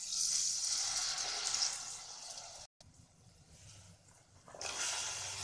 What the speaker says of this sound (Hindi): अब हम इसमें आधा ग्लास पानी डाल देंगे।